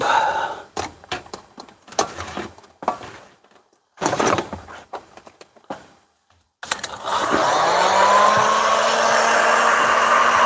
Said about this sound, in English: Hold on, I'm getting a hair dryer here.